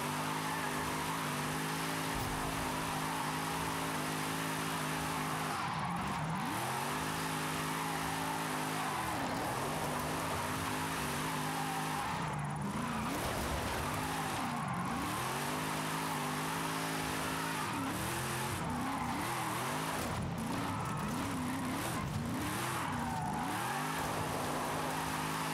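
Car engine revving and shifting through repeated drift runs in Forza Horizon 5, with rising and falling pitch sweeps and a steady hiss that may be tire scrub, loud and continuous with no talking.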